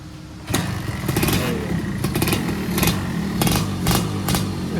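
A Suzuki Satria two-stroke motorcycle engine, just fitted with a carburetor, starts and runs steadily at close range, with a buzzing idle and a few short blips of revving throughout.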